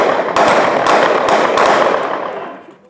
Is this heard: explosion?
yes